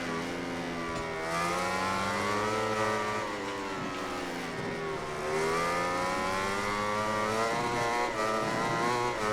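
Racing motorcycle engine in the MotoGP 2020 video game, a continuous loud high-revving whine with pitch rising and falling through gear changes and braking, no talk over it.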